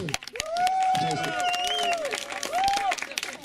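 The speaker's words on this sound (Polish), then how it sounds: "Jeszcze oklaski dla Oksywskich Chujów." Crowd clapping and cheering for a team at a Kashubian triathlon contest in 2017, steady applause with scattered shouts and whistles, a voice talking over it throughout.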